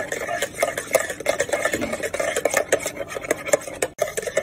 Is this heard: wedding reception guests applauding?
no